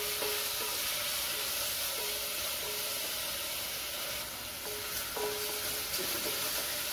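Tomatoes sautéing in a pan for mochai kottai kuzhambu make a steady, bright sizzle with faint scraping stirs, close and unbroken for the whole stretch.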